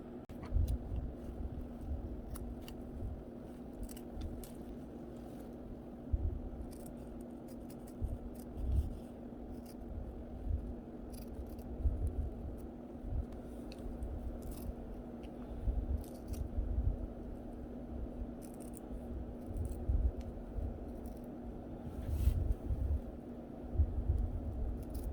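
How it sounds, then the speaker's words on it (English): Scissors snip through the lace closure of a wig in a steady series of soft, close cuts that continue without pause under a constant low background hum. "So I'm just gonna go along around here and just start cutting it."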